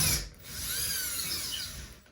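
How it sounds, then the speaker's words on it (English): A power drill whines while pre-drilling holes for a TV wall mount. It starts with a short burst, pauses briefly, then runs in one sustained, loud, close pitch-shifting whir for about two seconds. "we're gonna pre-drill our holes first"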